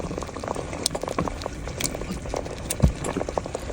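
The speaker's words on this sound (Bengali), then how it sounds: "ঝোল কষানো হয়ে গেছে, মাছগুলো দিয়ে দিচ্ছি এখন।" Fish pieces go into a simmering spiced curry gravy, a soft bubbling with irregular small pops and taps close by.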